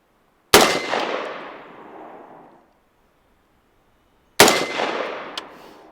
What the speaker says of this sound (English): This was our first 2 shots.